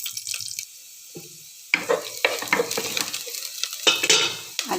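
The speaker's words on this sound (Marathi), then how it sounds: "तेल शेंगदाणा तेल चांगले तापल्यावर कांदा लसूण घालणार आहोत फोडणीमध्ये" Onion and garlic frying in hot peanut oil in a pot on a gas stove for a Konkan fish curry, with bursts of sizzling and stirring broken by short quiet gaps.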